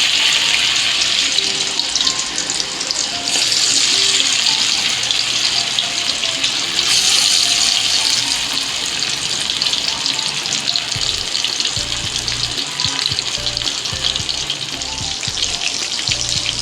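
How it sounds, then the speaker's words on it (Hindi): Battered fish fries in very hot oil with a loud, steady, dense sizzle that crackles constantly for over fifteen seconds, with no one speaking over it. "तेज गर्म ऑयल में आपने फिश फ्राई करनी है, ठंडे ऑयल में नहीं करनी।"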